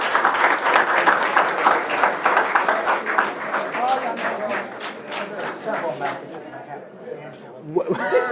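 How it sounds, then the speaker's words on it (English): A school board meeting audience applauds the South High Bulldogs with a dense burst of clapping mixed with crowd chatter, fading gradually and ending in brief talk. "one more round of applause for the Bulldogs"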